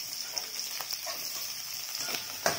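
Chopped large onion sizzles in hot oil in a pan alongside green chillies, a steady close frying hiss with occasional stirring scrapes and a sharper clatter near the end.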